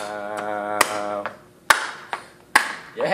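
A few sharp, evenly spaced hand claps ring out at a concert by an a cappella group. Sung harmony sustains underneath the claps.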